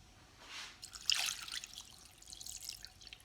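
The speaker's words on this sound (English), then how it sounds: "then we need 4 cups of water." Water poured from a measuring cup into a pot while making a no-oil vegan cheese sauce; a faint, soft splash and trickle lasting a couple of seconds in a quiet kitchen.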